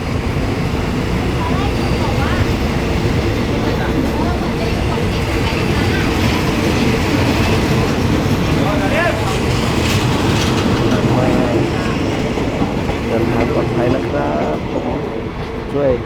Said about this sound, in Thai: เดินทางออกจากสถานีรถไฟนครสวรรค์นะครับผม